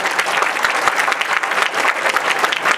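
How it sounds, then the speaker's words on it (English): An audience at a Bhagavad Gita recitation by children gives a steady, dense round of clapping that carries on for nearly three seconds with no pauses. "Let's give a big round of applause for them."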